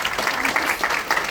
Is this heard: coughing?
no